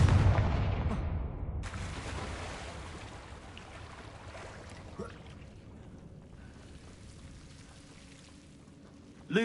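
In Hogwarts Legacy, a Confringo blasting spell lands as a loud, deep explosive boom at the start. Its rumble decays slowly into a quiet, hissing ambience, and a small thump comes midway.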